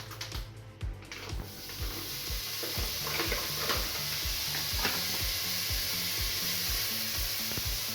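Lardons sizzling in olive oil in a pot, a steady continuous frying hiss with a low rhythmic ticking pulse running underneath, fairly close and even throughout.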